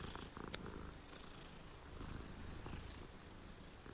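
A cat purring in the Hogwarts Legacy video game, a soft continuous rumbling purr held at low level throughout, with a faint high steady tone running underneath and no voice.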